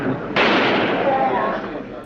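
A gunshot from a live television broadcast of the Oswald shooting in Dallas cracks out sharply, then a loud burst of crowd noise and shouting fills the rest of the moment.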